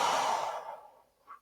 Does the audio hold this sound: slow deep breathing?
yes